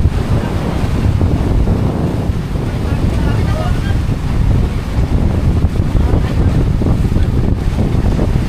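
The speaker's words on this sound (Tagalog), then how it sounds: "Oh, maalon pa oh, malakas ang alon." Strong Pacific Ocean waves off Surigao, Philippines, crash and churn continuously, loud and close, with heavy wind buffeting the microphone and voices faintly mixed in.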